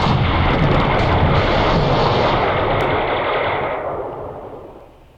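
Sustained loud gunfire and artillery barrage from the wargame Campaign Series: Market Garden, a dense rumbling roar of rapid shots and booms that holds steady for several seconds, then fades away near the end.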